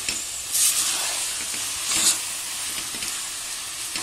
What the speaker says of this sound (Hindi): इसमें हमें तुरपा हुआ कद्दू डाल लेंगे। इसे अच्छा मिक्स कर लियो।